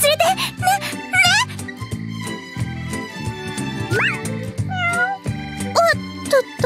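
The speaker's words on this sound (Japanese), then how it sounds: "おっとっと、なぜか猫が私の衣装をよじ登ってきたわ。" A cat in a Princess Connect! Re: Dive game scene meows repeatedly while climbing a character's costume, several bright rising and falling cries over music and jingling game sounds.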